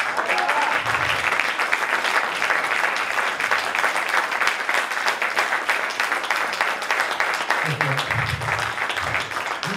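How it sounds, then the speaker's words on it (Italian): Audience applause at a combined theatre, music, poetry and charity show, a steady broadband clapping wash lasting throughout, loud and sustained with some low thumps near the end. "Qui credo poche parole, un applauso al talento di Betty Maimone"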